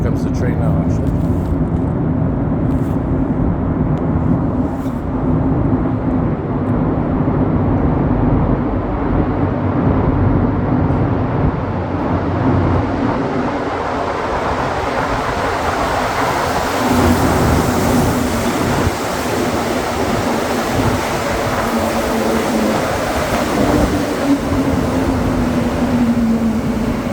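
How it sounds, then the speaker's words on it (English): A Montreal Métro train arrives at a station, its loud rumble building steadily and spreading into a rising hiss and tonal whine as it draws near, filling the space continuously. "here comes the train now"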